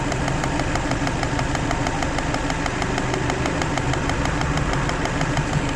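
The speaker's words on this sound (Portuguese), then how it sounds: "E esse tec-tec que você ouve, veja só, já é o bico injetor trabalhando" Car engine idling with its fuel injector ticking, picked up by a phone pressed against the ignition key: a steady, loud, dense mechanical clatter with a fast repetitive tick running through it, no talk.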